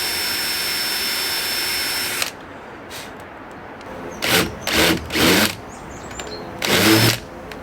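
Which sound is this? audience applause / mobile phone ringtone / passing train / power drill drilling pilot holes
power drill drilling pilot holes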